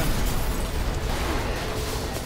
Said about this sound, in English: Cool explosion.